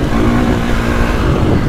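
A 2024.5 KTM 450 Factory Edition dirt bike riding on a motocross track: a loud, close, steady engine roar held at an even pitch throughout.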